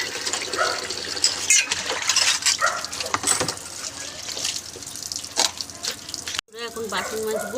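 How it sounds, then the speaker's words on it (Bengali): Running tap water splashes into a sink while dishes are scrubbed and clatter, close and continuous with brief metallic knocks, and a voice speaks faintly underneath. "এখন বাসন মাজবো।"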